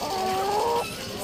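Live chickens at a busy street market cluck in a short, close burst with a sustained tonal call, over a steady wash of crowd and traffic noise.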